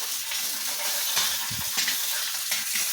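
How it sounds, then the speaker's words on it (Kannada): Flattened rice (avalakki) frying in a pan gives a steady, bright sizzle with occasional stirring scrapes, close and even with no one speaking. "ಅವಲಕ್ಕಿ ಕರಿತಾ ಇರೋದು ಎಷ್ಟಾಗ ಬಂದಿದೆ ನೋಡಿ"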